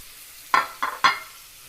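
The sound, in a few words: steak searing in a pan on the stove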